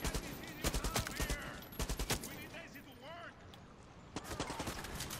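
Far Cry 6 gameplay gunfire, with rapid bursts of shots and clusters of sharp reports coming in quick volleys between pauses, while players talk over the action.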